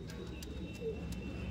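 Pigeons cooing close by in a loft where males and females are being released, a soft continuous low murmur of coos with a few faint clicks over a steady background.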